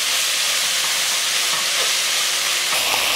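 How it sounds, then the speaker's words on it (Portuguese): Miso paste heats in a hot pan with pork and bitter melon, giving a steady, loud, close sizzle and frying hiss that runs without a break, with faint stirring scrapes and no voices. "no fogo até o miso aquecer bem e levantar um cheirinho tostado"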